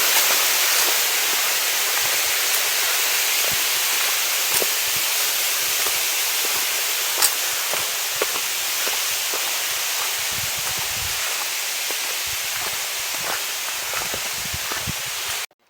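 Catherine Falls on a misty hill trek roars as a dense, steady wash of falling water, loud and unbroken throughout, with a few faint knocks and rustles nearby.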